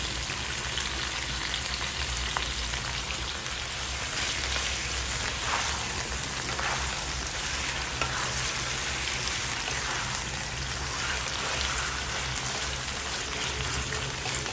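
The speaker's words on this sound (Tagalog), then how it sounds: "Hayaan muna natin siyang mag-prito-prito." Chicken sizzles and crackles steadily in a hot pan, sautéed without water for chicken afritada, a continuous bright frying hiss with no talking.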